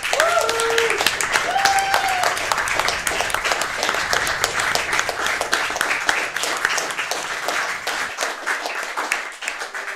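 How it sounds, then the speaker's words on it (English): Audience at a SpeedCon 2018 speedrun marathon applauding, steady crowd clapping for about eight seconds with a few voices and cheers mixed in, fading at the end. "let's give them a round of applause because they really deserve it"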